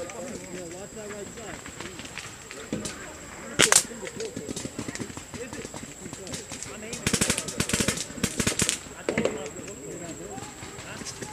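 Airsoft guns at an outdoor Supergame East 2018 skirmish fire in short bursts of sharp cracks, some nearby and others farther off, over rustling movement and quiet voices.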